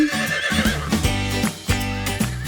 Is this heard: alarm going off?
no